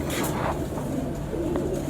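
Pigeons of a red Badshah flying breed coo in a continuous low murmur, with several birds close by and soft overlapping calls throughout.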